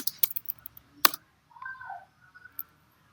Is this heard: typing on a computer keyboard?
yes